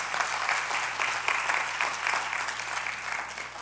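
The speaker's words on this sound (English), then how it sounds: "give the Lord a hand clap for that" A church congregation claps together, a steady burst of applause that fills the room at moderate volume with no talk over it.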